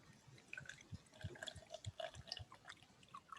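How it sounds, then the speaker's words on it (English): Beer poured into a glass, a quiet run of drips, glugs and fizzy splashes with no voices. "I have no idea if that actually sounded like a good beer pouring"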